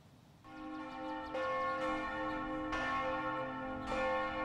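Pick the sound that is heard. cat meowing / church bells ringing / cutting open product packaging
church bells ringing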